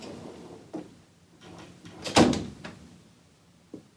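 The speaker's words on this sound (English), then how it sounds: "you've created a barrier so when the door opens, Mack can't get out." A front door opens against a retractable pet gate, giving a few soft bumps and rattles, a louder clattering knock in the middle, and a final light tap, all close by in a quiet room.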